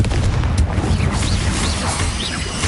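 Booming Confringo spell explosions in Hogwarts Legacy, a loud, dense crash with rumbling low end and whooshing magical sweeps through a short, chaotic stretch of combat, with no talking.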